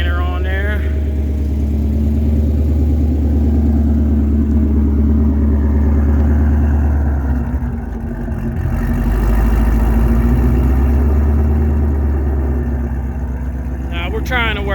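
A 2020 Shelby GT500 Mustang V8 idles steadily just after a cold start, a loud, deep and continuous rumble with a slight dip partway through, close to the car, with a voice talking over it.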